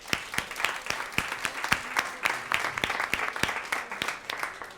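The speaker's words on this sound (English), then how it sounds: "We need to clap for another musician." An audience at a children's classical music show claps for a musician, a steady run of sharp handclaps and applause that holds for about five seconds without any talk.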